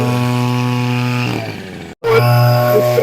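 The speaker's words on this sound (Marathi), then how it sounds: "चालू आहे multipurpose brush cutter pump spray pump" The small engine of a multipurpose brush cutter spray pump drones steadily at close range, briefly dipping and cutting out for a moment before roaring back at full, even pitch.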